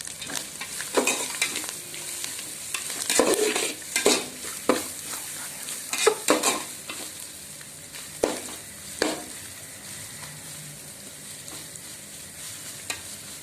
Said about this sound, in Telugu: ఇప్పుడు ఇందులో ఆనియన్స్, పచ్చిమిర్చి, ఈ జీడిపప్పు ఇవన్నీ కూడా వేసి కొద్దిగా ఫ్రై చేద్దాం.